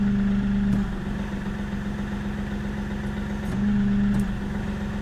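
A Kioti NX5510 HST 4x4 tractor's diesel engine idles steadily nearby, a low continuous drone with two brief rises in pitch and loudness, no voices.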